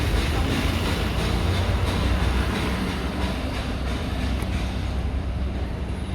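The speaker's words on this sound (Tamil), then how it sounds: "இந்த பக்கம் ஒரு ட்ரெயின் போகுது" A train rolls past on the rail line along the Coimbatore to Ooty hill route, a loud, steady broadband rumble and rattle heard close by for the whole stretch, with no voices over it.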